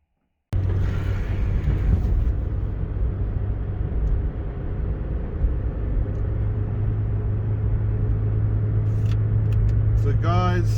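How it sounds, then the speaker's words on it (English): Inside a car driving through Tehran, Iran: a steady, loud low engine and road drone runs throughout after a brief silent start, with a few faint chirps near the end. "I'm in Morteza's car"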